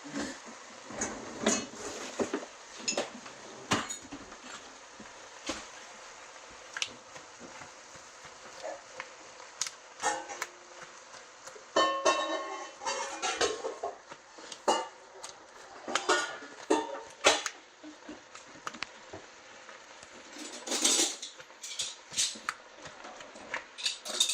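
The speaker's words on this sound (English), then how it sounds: "you're going to keep stirring this until the ground beef is done and no longer pink" Ground beef being stirred in a pan with Worcestershire sauce, a steady run of scraping clinks and knocks from the utensil against the pan, moderately close, at an uneven rhythm over a quiet sizzle.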